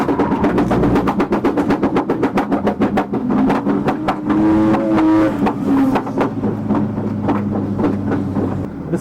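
A simulated car engine revs hard with rapid pulsing as it drifts around the Nurburgring Driftpark in a sim racing game, loud and continuous with no talking.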